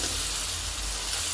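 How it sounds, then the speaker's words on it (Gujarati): Cabbage, capsicum and green chillies sizzle over low heat in a pan, giving a steady, close hiss and crackle with no voices. "કેપ્સિકમ, મરચાં. આને ધીમા તાપે 5 મિનિટ ચડવા દઈશું."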